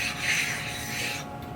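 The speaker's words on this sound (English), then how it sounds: "I'm going to just lightly stone my table" A sharpening stone is rubbed lightly over a metal machine table slick with WD-40, giving a short, soft, continuous abrasive scrub close by, with no voices.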